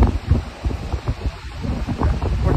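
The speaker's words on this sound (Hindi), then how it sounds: "माइक में आवाज़ नहीं आ रही हो तो भाई sorry for the bad quality, but हवा चल रही है बहुत ही ज़्यादा" Strong gusts buffet the microphone at a riverside campsite, producing heavy low rumbling thumps and roaring bursts that rise and fall irregularly and stay loud and close throughout.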